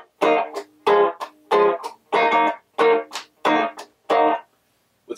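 Electric guitar played through a small amp built into a 12-inch drum, treble boost off and glitch knob fully down: six clean, separate strummed phrases with short gaps, fairly loud and close, no talking.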